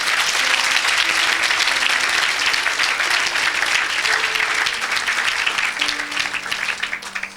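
A congregation claps throughout a lively church service, with dense, sustained applause close and loud for several seconds before it begins to thin toward the end.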